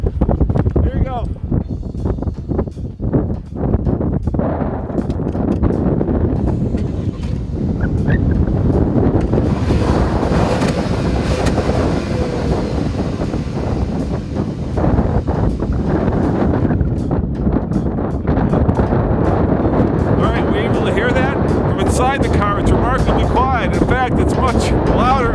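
Strong wind buffeting a microphone outdoors beside a 2014 Volkswagen Tiguan 4Motion, a loud, continuous rumbling roar with gusty swells throughout, with a person talking.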